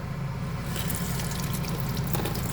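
Water runs from a tap into a small van sink for a quick rinse, a soft steady splash and gurgle that grows brighter after the first moment and stays fairly quiet.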